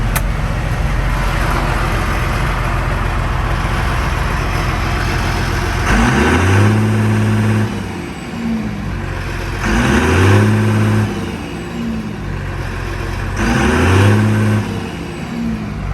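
A John Deere 6900 tractor engine runs steadily, with repeated revs rising and falling in a loose rhythm over a constant close drone, no talking.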